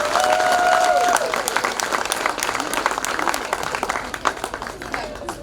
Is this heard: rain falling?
no